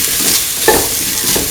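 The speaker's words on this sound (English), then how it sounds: "Mix the spices of garam masala." Spices of garam masala are stirred into tofu rice frying in a pan, a steady sizzle broken by a few scraping strokes of the utensil, close and alone.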